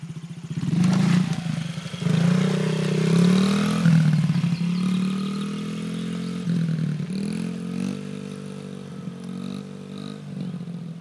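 A Honda CRF50 motorcycle rides nearby with a steady buzzing engine drone that rises and falls in pitch as it revs and shifts, heard alone without talk.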